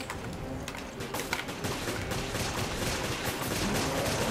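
Rapid, dense machine gun fire from Resident Evil Revelations Raid Mode sounds without pause, a loud, steady crackling barrage with sharper shots poking through.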